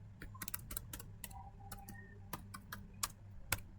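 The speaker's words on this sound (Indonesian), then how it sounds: "Lalu kita akan coba ketik trace 88." Computer keyboard typing a trace command to a network address: a quick, irregular run of sharp key clicks, fairly close and clear, with no talking.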